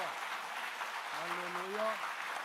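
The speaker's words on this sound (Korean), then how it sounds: "우리에게 영광과 생명과 승리를 주신 주님 앞에 찬양과 영광의 박수를 돌려주셨습니다" A church congregation at a Sunday Easter service claps steadily in praise, a dense wash of applause throughout while a voice calls out briefly over it.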